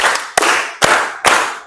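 A classroom of students claps together in a chanted rhythmic pattern, three sharp, loud unison claps spaced roughly half a second apart, each trailing into a brief ringing decay.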